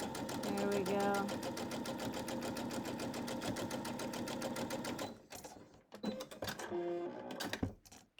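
A sewing machine stitching quilted sunflower coasters runs in a steady, rapid mechanical chatter for about five seconds, then stops and gives a couple of short bursts, all close up, with a voice speaking around the stitching.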